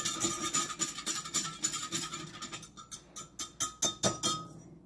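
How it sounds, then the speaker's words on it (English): A whisk clinks rapidly against a bowl while mixing a spice blend with allspice and cinnamon, a close, steady run of light metallic taps that grow more distinct toward the end. "And we're going to whisk all that together."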